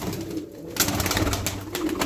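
Aksaray game pigeons coo and flutter close by, with a soft rolling coo and brief wing or movement noise over a continuous low background.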